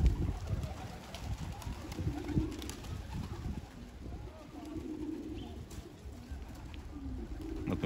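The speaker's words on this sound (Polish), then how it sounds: "Na tę chwilę gołębie sobie uwielbiają chodzić po trawie, tą trawę sobie tak skubią i skubią" Pigeons coo softly and repeatedly outdoors on grass, low murmuring calls overlapping amid faint background noise, with no clear speech.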